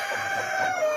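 Local chickens kept in a long partitioned coop, with a rooster crowing steadily close by and fowl clucking faintly underneath.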